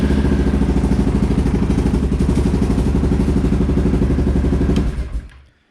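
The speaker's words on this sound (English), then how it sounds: "it was the exhaust rattling off all its paper" A 2016 Polaris Sportsman 570 ATV engine runs steadily with a rapid rattling, buzzy exhaust note from loose exhaust packing, close and loud, then cuts off and fades to silence at the end.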